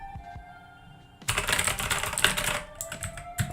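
Code typed on a computer keyboard: after a quiet hum, a burst of rapid, close key clicks and clatter runs for a couple of seconds, then slows into scattered keystrokes.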